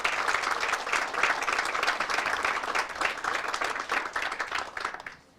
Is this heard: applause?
yes